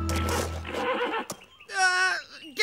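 A horse in an animated children's adventure series gives a loud, clear whinny near the end, after a brief burst of talking.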